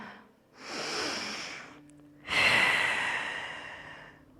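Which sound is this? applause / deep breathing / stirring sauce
deep breathing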